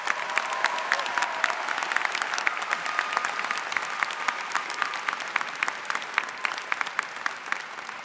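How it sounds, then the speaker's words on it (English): A commencement crowd applauds steadily and loudly throughout, dense clapping with no talking, sustained at an even level the whole time. "One more big round of applause for all of these folks."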